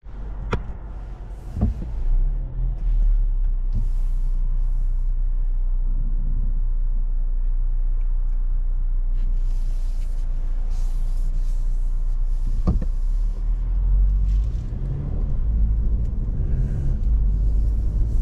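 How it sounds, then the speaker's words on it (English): Steady low road rumble inside a 2023 Kia Seltos Nightfall Turbo AWD on the move, with occasional soft knocks and thumps from the cabin, fairly even throughout. "we are out on the road in this 2023 Kia Seltos Nightfall Turbo all-wheel drive trim"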